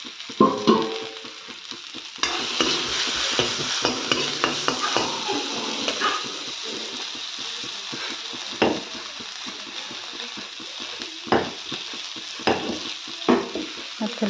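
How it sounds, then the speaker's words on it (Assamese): Local chicken stir-fries with ginger, garlic and chili in a pan, giving a continuous close sizzle broken by repeated scrapes and clinks of a stirring utensil against the pan. "মই লোকেল চিকেন বনালোঁ, একো দিয়া নাই, আদা নহৰু অকল জলকীয়া দি পেলাই বনাইছোঁ তেনেকৈ"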